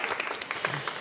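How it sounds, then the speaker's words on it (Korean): An audience at a Korean televised town-hall talk event with a city mayor and young people bursts into brief applause, dense clapping heard over about a second. "박수 한번 주세요."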